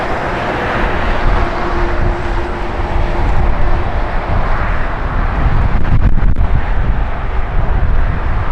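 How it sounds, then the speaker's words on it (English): An Aloha Airlines Boeing 767 touches down at LAX amid a loud, continuous rumble of engine noise mixed with heavy microphone wind buffeting. "Touchdown of our Aloha 767."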